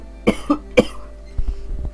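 A person with a cold coughs three times in quick succession, sharp and close, followed by softer shuffling sounds.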